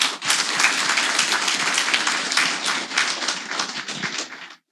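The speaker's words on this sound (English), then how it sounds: "I want to give a round of applause from me to the boys and girls here" An audience claps enthusiastically, a loud burst of dense applause sustained for a few seconds before stopping abruptly.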